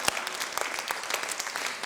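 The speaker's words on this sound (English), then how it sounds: "If you'll just stand up and applaud yourselves, I really would appreciate it." An audience at a campaign launch event applauds in a steady patter of clapping hands, moderately near, continuing throughout with no speech.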